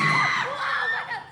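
Fans at a Korean red carpet event for the Demon Slayer Infinity Castle film cheer and shriek in a brief, loud burst of high-pitched crowd voices.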